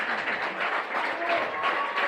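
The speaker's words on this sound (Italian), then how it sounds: "Esce tra gli applausi giustamente" Football crowd at a Torres–Trestina match giving steady applause as player Marco Fideli leaves the pitch, clapping in a moderate, continuous patter, with a commentator speaking over it.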